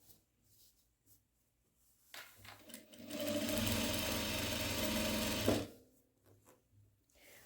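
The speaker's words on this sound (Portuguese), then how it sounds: "a gente tá fazendo aqui a nossa costura pro lado direito da nossa sacaria" A sewing machine stitches a seam along a dish towel, starting with a few soft taps, then running in a steady whirring burst of about three seconds before stopping, close and alone.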